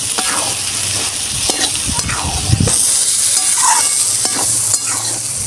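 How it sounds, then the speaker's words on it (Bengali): Ghugni masala with a pinch of sugar being sautéed and stirred in a pan, a loud steady sizzle with repeated spatula scrapes throughout. "আমার কষানো হয়ে গেছে দেখুন এইভাবে আমি কষিয়ে নিয়েছি"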